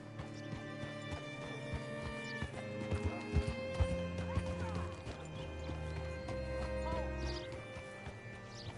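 Horse hooves clop along in an uneven rhythm in the video game Red Dead Redemption 2, a whinny rises near the end, and a few heavier thuds land in between, all up close.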